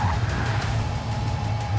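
One of three luxury sedans, an Audi S8, BMW M760Li or Mercedes-AMG S63, brakes hard into a tight corner on a track, its tires squealing over a steady engine roar.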